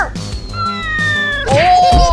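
A cat meows in short, rising cries close by during a playful backyard comedy sketch, two or three calls stretched over a couple of seconds with faint background noise.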